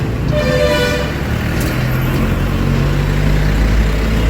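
Busy street traffic of buses and cars hums loudly and continuously in Rishikesh, India, with a car horn tooting near the start over the steady rumble of engines; cows on the road.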